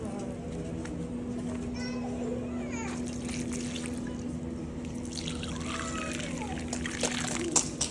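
Water is poured from a lota onto potted plants, trickling and splashing over about eight seconds while children play and people talk nearby.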